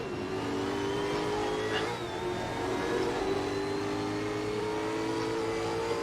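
A V8 Supercar engine drones steadily in a racing video game, a continuous loud mid-pitched roar with a brief rev change partway through, running alone without talk.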